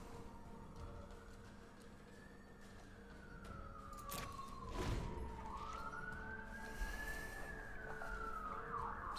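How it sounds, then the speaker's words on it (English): A distant emergency siren outdoors wails in slow rising and falling sweeps, faint and muffled as if heard through a window over low background hum. "sirens going on outside."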